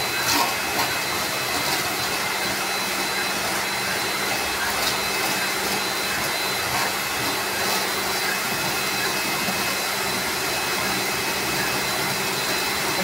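Lakoni Laguna 70 pressure washer working at 70 bar, giving a steady, loud motor hum under a continuous hiss of spraying water that runs unbroken throughout, close, with no talking.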